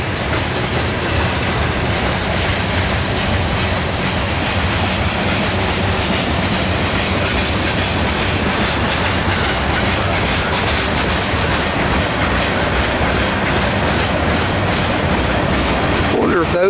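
A long Norfolk Southern freight train rolls steadily past close by, a continuous rumble with rhythmic clatter of wheels over rail joints throughout.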